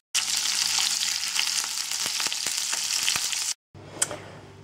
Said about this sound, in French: Je remets du beurre dans ma poêle et j'y saisis mes morceaux de caille